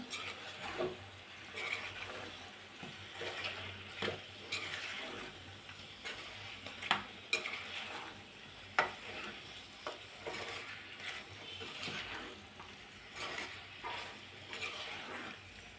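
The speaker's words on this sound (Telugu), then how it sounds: "ఇప్పుడు సరి బాగా కలుపుకోవాలి చికెన్ని" Spicy chicken pieces being stirred in a hot pan, with a steady low sizzle and scattered sharp scrapes and clinks of the spoon against the metal, no talking.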